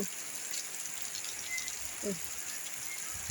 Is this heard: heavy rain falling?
yes